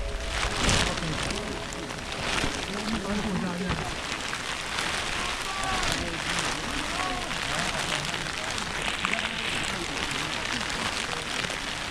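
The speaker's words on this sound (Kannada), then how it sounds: "ಮಳೆ ಅಂತೂ ಭಾಳ ಜೋರಾಯಿತು" Heavy rain pours steadily on the Gangadikal trek in leech country, a dense, continuous hiss filling the whole stretch while people talk over it.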